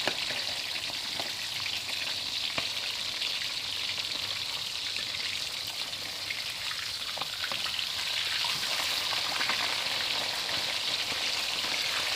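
Fish sizzles steadily in a hot pan, a constant crackling fry with no pauses, close and fairly loud.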